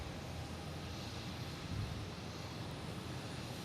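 An aircraft at Boston Logan International Airport gives off a steady, distant broadband engine roar, constant and unbroken with no voices.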